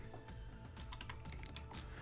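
Quiet, rapid keystrokes on a computer keyboard come in uneven bursts of clicks as code is entered, with no voice over them.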